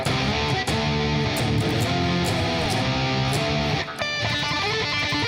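Electric guitar run through a Neural DSP amp plugin at zero transpose, tuned to standard E, plays dense, loud chords and riffs that carry on without a break, with a short dip near the end before the playing resumes.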